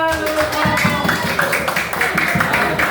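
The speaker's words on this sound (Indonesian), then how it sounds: "Oke, tepuk tangan." Students in a classroom lesson clap together in a quick rhythmic burst of hand claps, with voices mixed in among them.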